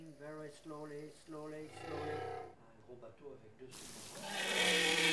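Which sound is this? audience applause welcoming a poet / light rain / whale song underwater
whale song underwater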